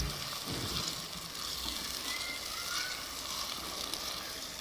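Tomatoes seasoned with salt sizzle and fry steadily in a pan while being stirred, a close continuous crackle with soft scraping throughout.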